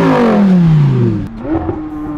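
A Lamborghini Huracan STO and a McLaren 600LT accelerate hard in a drag race, one loud close engine note sweeping down in pitch and fading, then a second rising whine beginning as the first recedes.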